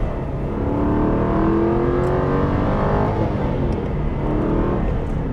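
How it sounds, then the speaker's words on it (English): Aston Martin V8 Vantage V8 engine pulling hard under acceleration, a loud, steady rising roar with layered engine harmonics that builds continuously and stays close throughout, with no talking. "you've got that wonderful V8"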